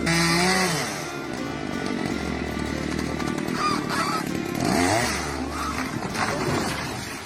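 A chainsaw roars steadily close by as it cuts trees, its engine pitch rising and falling, with brief shouts mixed in.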